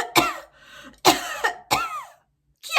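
A woman coughs in several short, sharp bursts, a few dry hacks spaced about half a second to a second apart, close and clear, with no talking between them.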